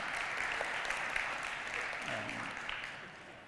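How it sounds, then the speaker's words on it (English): Audience applause at the EmpathyTech Philadelphia community event, a steady wash of clapping hands that holds at an even level for several seconds, with a voice faintly heard underneath. "give a round of applause"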